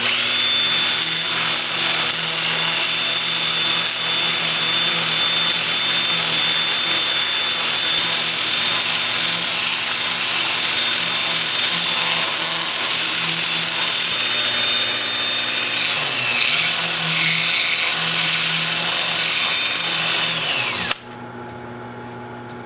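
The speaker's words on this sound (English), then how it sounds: "I'll sand the bottom with my 2-inch sanding disc starting at 80 grit and working up through 400" A 2-inch sanding disc on a drill works the bottom of a wood-turned piece on a lathe, a loud steady whining hum with grinding texture running continuously before cutting off abruptly near the end.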